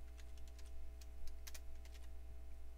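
Someone types a name on a computer keyboard during a Windows Embedded POSReady 2009 setup in VirtualBox, producing quiet, irregular key clicks over a steady electrical hum.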